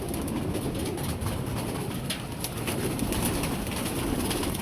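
An unusual breed of pigeon coos in low, steady tones, partly buried under a constant wash of broadband background noise, with no talking.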